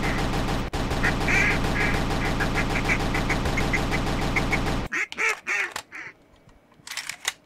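Ducks in a bird hunting video game quack in a dense, loud, rapid chorus that stops abruptly, followed by scattered sharp shots and sparse sounds.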